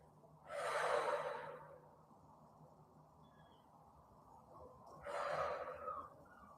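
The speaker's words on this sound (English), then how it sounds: "2 deep breaths to hold." Two slow, deep breaths drawn and released during a seated forward-fold hamstring stretch in a whole-body mobility class, each breath a soft, airy rush lasting about a second, separated by a quiet pause.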